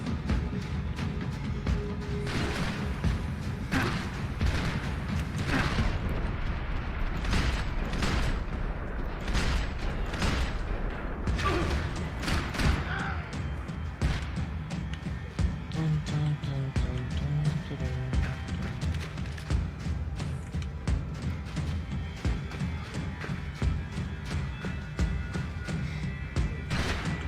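Rapid bursts of Max Payne 3 gunfire crackle and boom almost continuously, loud and dense, with sharp shots layered over a rumbling battle background.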